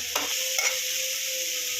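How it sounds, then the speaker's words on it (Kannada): A bitter gourd stir-fry with coconut and jaggery sizzles in a pan under a steady hiss, with a couple of quick scraping stirs at the start, close by. "ಬೆಲ್ಲ ಒಂಚೂರು ಹಾಕಿ ಮಿಕ್ಸ್ ಮಾಡೋಣ"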